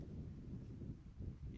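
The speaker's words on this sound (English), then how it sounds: "you can very much tell that it is windy." Wind buffeting a microphone outdoors at a men's lacrosse game, with a low, rumbling, uneven roar throughout that swells and dips, and no clear voices.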